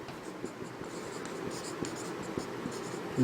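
A pen writes on paper during a Class 10 trigonometry lesson: quiet, close scratching strokes in short bursts with small taps between them, and no voice.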